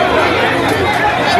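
Dense crowd chatter and overlapping voices in a Lagos Island street queue for bread, a loud, steady babble close by.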